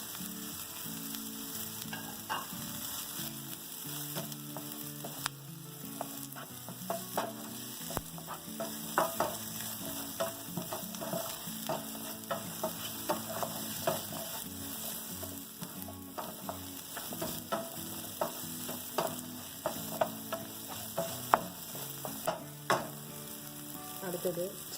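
Spices sautéing lightly in a pan for chicken kola urundai meatballs, a soft continuous sizzle broken by frequent small clinks and scrapes of stirring, fairly quiet and with no talking.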